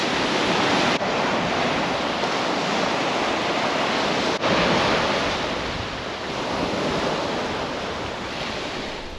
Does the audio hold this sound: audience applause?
no